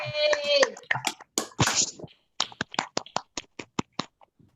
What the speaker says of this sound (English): we can like clap and cheer for Christina Brown, Ceasar, James, and River